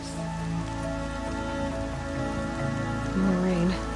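Rain falls steadily in a video game, a dense continuous patter on surfaces under a droning ambient music bed.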